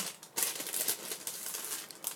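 Plastic packaging crinkles and rustles close by as a packet of bamboo knitting needles is torn open, a run of sharp, irregular crackles with no talking.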